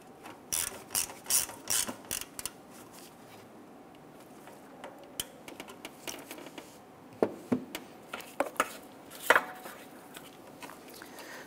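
Ratchet wrench snugging down a ground bolt on a 1997-2006 Jeep Wrangler during grille replacement: bursts of quick close clicking, some pauses between runs, no talking.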